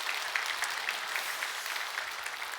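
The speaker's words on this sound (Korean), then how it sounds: "우리 수고한 모든 분들께 박수 한번 보내겠습니다." Congregation at a church service clapping together, a dense, even patter of many hands sustained throughout at moderate distance, with no talking.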